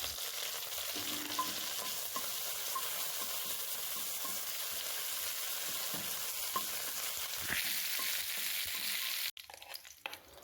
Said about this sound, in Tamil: சேர்த்துட்டு நல்லா வதக்கி விட்டுக்கோங்க